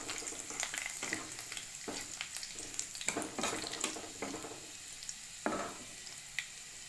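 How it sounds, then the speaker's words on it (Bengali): Chopped garlic frying in hot oil, a faint continuous sizzle with repeated scraping and clinking of a utensil stirring in the pan, heard alone without talk. "দিয়ে এটা ফ্রাই হবে, ভাজা ভাজা হবে রসুনটা"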